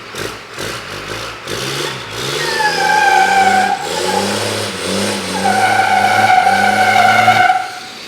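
A Cummins-engined Nissan Patrol revs hard with its wheels spinning, the loud, close engine note climbing and falling in repeated surges. No one speaks.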